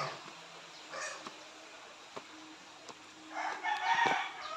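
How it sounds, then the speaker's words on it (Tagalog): Chickens cluck beside a brooding hen sitting on eggs, with short scattered calls early on and a louder, longer rooster crow building near the end. "Yung manok dito na naglilimlim, oh."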